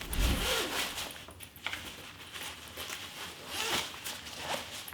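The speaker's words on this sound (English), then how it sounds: "The zipper feels pretty good," Zipper on a Bagsmart compression travel cube with nylon fabric and netting, several quick zipping pulls at close range, each a scratchy burst with short pauses between, no talking.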